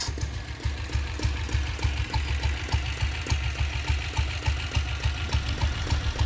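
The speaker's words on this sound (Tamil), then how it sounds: "இப்போ நான் வண்டியை ஸ்டார்ட் பண்ணி காட்டுறேன் பாருங்கள்" Restored Royal Enfield diesel Bullet motorcycle idling, a steady low knocking thump repeating several times per second, close and even, with no talk.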